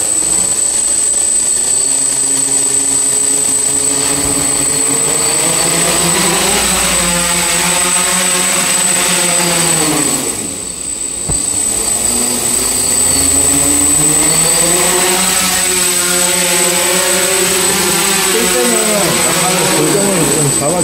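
A DJI F550 hexacopter's motors and propellers whine loudly and steadily, pitch rising and falling as throttle changes, with a brief dip midway; a voice talks over the constant drone.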